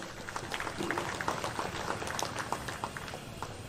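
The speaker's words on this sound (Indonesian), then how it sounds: "Untuk itu mari kita aplaus" Crowd applauding at the inauguration of a church office building in Hitigima, Baliem Selatan, Papua, a steady patter of many hands clapping at moderate distance, fairly soft.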